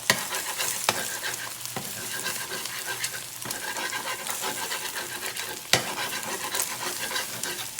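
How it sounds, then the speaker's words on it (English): An egg for spam fried rice sizzles and fries in a pan, a steady close crackle broken by a few sharp scrapes or taps of a utensil, with no talking. "Make sure to cook the egg."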